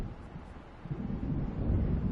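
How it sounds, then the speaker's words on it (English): Low, distant thunder rumbling from an approaching storm over the sea in a video game, a soft muffled roll that swells slightly and stays alone without speech. "It seems there's a storm coming."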